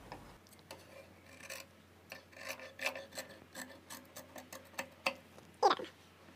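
Scissors cut through blouse fabric during boat-neck blouse stitching, giving soft, close crunching snips and rasping strokes in an uneven rhythm, fairly quiet, with no talking.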